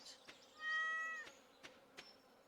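A single cat meows in modded Stardew Valley, one drawn-out, rising cry that lasts about half a second. Soft game ambience and a few short clicks surround it.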